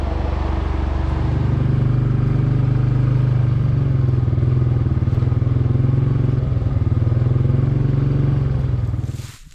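A four-wheeler ATV drives across a grassy food plot, its engine a loud, steady close drone with rattling and clatter throughout, cutting off at the end.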